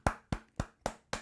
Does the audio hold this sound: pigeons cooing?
no